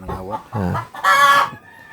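Chickens cluck close by, a couple of short clucks followed by a loud, drawn-out squawk that tails off.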